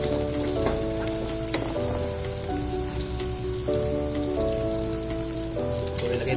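Garlic and ginger fry in a hot pan for a shrimp coconut-milk dish, giving a steady, dense sizzle and crackle close by, with a faint sustained tone running underneath. No one speaks.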